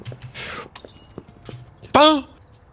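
A drinking glass drops and shatters with a single bright crash late in the clip, preceded by Danish speech and light handling noises at close range.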